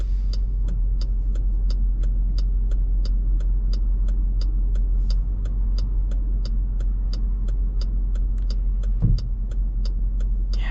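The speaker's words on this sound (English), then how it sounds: "Yeah, I really like that V8 noise." A 2025 Dodge Durango R/T V8 engine runs with a steady, deep low rumble, and a regular light ticking repeats over it throughout.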